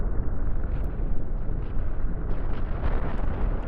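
An enemy command center is destroyed in the space fleet battle game Cosmoteer, producing a sustained, rumbling explosive roar that stays dense and loud throughout, with scattered sharper bursts layered on top and no speech.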